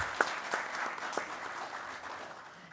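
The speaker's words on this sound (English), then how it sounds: "let's have a big round of applause for everyone present over here" Faint, steady audience applause at the inaugural session of an agriculture technology event, a continuous wash of clapping from a distance that slowly tapers off.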